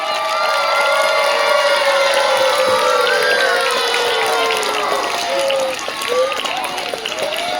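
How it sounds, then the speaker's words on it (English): Children at a school prize distribution ceremony clap and cheer together, with high excited voices and shouts riding over steady clapping throughout. "Please give them a big round of applause, children."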